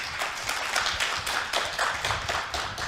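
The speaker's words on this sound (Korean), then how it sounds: "박수로 환영해" An indoor conference audience applauds to welcome a university professor onto the stage, a dense, steady burst of many hands clapping close by, with no talking over it.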